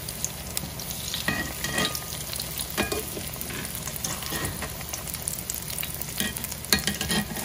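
Battered mini corn dogs sizzle steadily in oil kept at medium to lower-medium heat, a continuous close bubbling fry with occasional stirring clinks and scrapes.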